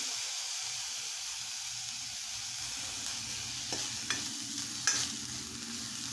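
Coconut and garlic being sautéed in a pan for dal-rice, a quiet steady sizzle and hiss with a few light clicks of stirring near the end.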